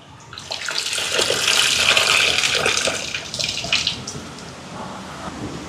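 Soaked tamarind water is poured into a simmering curry in a steady, splashing gush that swells and then tapers off into lighter trickles, close and fairly loud, with no speech.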